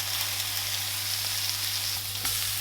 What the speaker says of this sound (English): I want to chuck in the bacon. Start that cooking.